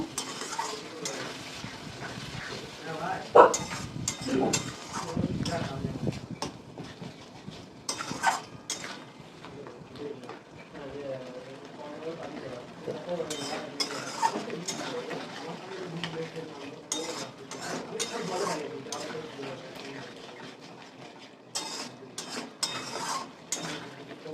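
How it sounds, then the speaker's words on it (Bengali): Paneer curry being stirred and sautéed in a pan with ginger-cumin and coriander paste, a steady sizzle with scraping spoon and utensil clinks running throughout, with a voice speaking over parts of it. "এবার এটা দিয়ে আমি কষাবো"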